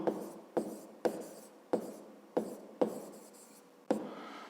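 A pen writes by hand in a fifth-grade maths workbook, making seven crisp strokes at a slow, regular pace, quiet and close with nothing else heard.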